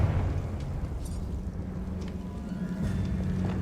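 Confringo fire spell explodes in Hogwarts Legacy, a sustained loud rumbling blast with deep low roar and crackling bursts throughout, no talk.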